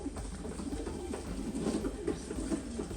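A racing pigeon, a blue checker, coos in a loft, low repeated throaty calls close by over a constant background hum.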